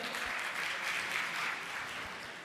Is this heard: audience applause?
yes